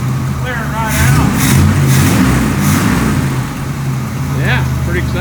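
Engine of a 1967 Chevy El Camino barn find runs steadily up close, a loud rumbling idle that swells briefly as it revs, while people talk over it.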